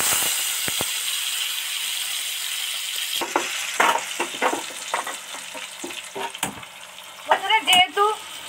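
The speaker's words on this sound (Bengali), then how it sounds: "এবার গ্যাসটা অফ করে দিলাম, দিয়ে এবার এই টমেটো পেস্টটা এর মধ্যে ছেড়ে দিচ্ছি" Tomato paste poured into a hot pan with cardamom and a bay leaf, crackling in a steady close sizzle, followed by the scrape and clatter of stirring, with the flame switched off.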